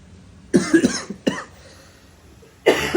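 Three separate coughs break a quiet background, the first a double burst, then a short single cough and a longer one at the end.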